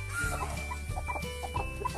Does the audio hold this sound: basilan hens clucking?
yes